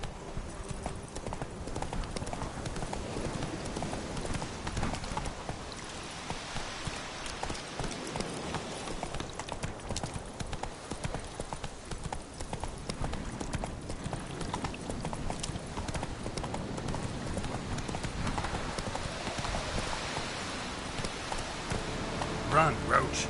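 Roach the horse gallops in The Witcher 3, hooves clip-clopping in a fast, continuous rhythm, loud and close under a steady wash of rain and game ambience, with someone talking over it.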